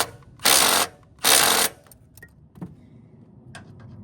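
A ratchet tightens front strut assembly bolts on a 2007–2013 Chevy SUV or truck, with two loud bursts of rapid clicking close up followed by a few lighter metallic taps and clinks.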